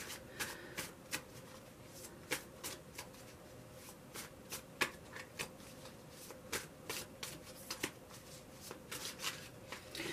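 Tarot cards being shuffled by hand during a daily reading, heard as a steady run of crisp riffling snaps and flicks up close, with no voice over them.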